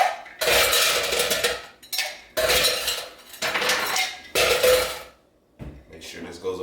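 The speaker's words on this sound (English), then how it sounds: "the proper way to shake a cocktail in the tin" A cocktail shaken hard in a metal tin, with four or five vigorous rattling bursts of ice clattering against the metal, each separated by brief pauses, close and loud.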